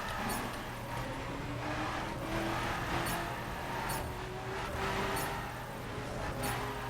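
A drifting car in The Crew, a 900 spec build held in third gear, gives a steady engine drone whose pitch rises slowly, with faint tyre or clicking sounds on top.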